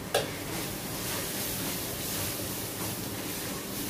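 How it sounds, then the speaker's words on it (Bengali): Turmeric, cumin and coriander powder fry in a pan with a soft, steady sizzling hiss and faint stirring, preceded by a brief single scrape at the start. "আমি একটু একটু মানে মশলাটা কষিয়ে নিচ্ছি আর বাকি মশলাগুলো অ্যাড করছি"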